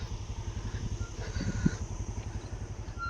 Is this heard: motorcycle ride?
yes